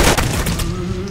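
Shots from the Calibri weapon in the Roblox shooter Arsenal, a burst of sharp cracks at the start fading into a steady tonal hum, loud and close.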